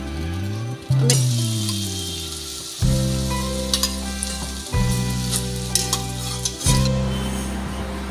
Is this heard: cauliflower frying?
yes